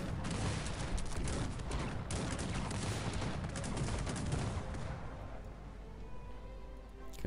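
Cannon and mortar fire from the real-time strategy game Cossacks 3 rumbles as a dense, continuous barrage of overlapping booms and crackling shots, loud throughout and easing slightly toward the end, with no talk.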